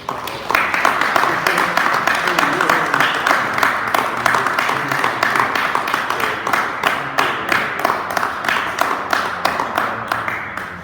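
Steady applause from a crowd at a military promotion and award ceremony, dense clapping that carries on for several seconds at an even level.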